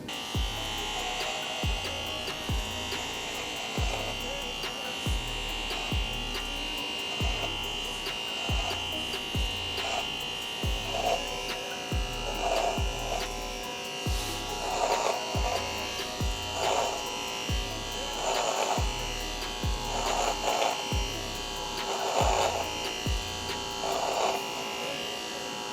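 An electric shaver runs steadily over a freshly glued tufted rug, a continuous close buzz with rhythmic pulsing thumps and swishes as it passes back and forth across the pile.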